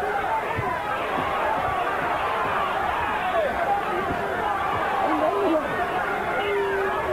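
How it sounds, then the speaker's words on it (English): A boxing crowd at the Lennox Lewis bout voices its displeasure in a steady, murmuring babble of boos and chatter, continuous and fairly loud, with a commentator's voice running over it. "And the crowd begins to express its displeasure."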